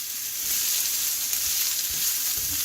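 Onions and shallots frying in a pan give a steady, close sizzle that holds evenly for the full stretch, with a few soft low bumps as they shift, and no voices over it.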